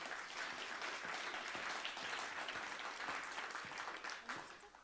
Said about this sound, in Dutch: Geeft u Mirella ook een hartelijk applaus.